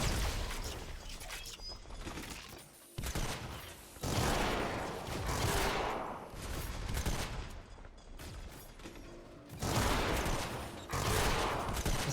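Weapon fire in Fortnite Save the World comes in loud sustained bursts separated by short gaps, dense and close with no talking over it.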